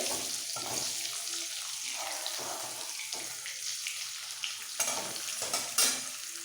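Boiled potatoes frying in oil on high heat, a continuous crackling sizzle with repeated scraping stirs and a few sharper clacks of utensil against the pan near the end.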